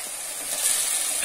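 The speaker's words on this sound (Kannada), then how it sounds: "ಟೊಮೆಟೊ ಹಾಕೊಂಡ್ಬಿಡೋಣ ನೋಡಿ ಒಂದು ದೊಡ್ಡದು ರುಬ್ಬಿ ಇಟ್ಕೊಂಡಿದ್ದೀನಿ ಸೋ ಚೆನ್ನಾಗಿ ಫ್ರೈ ಆಗಲಿ ಇದನ್ನ" Ground tomato paste for bitter gourd gravy sizzles in a hot pan with a brief, steady, close hiss.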